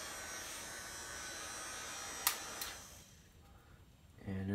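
A heat gun on a hotter setting blows a steady whooshing hum while shrinking heat-shrink tubing over bullet connectors for a Pro-Line PRO-MT 4x4 monster truck. Two brief clicks sound midway, then the airflow eases off and fades.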